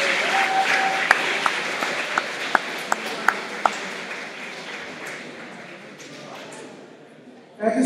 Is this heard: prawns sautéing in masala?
no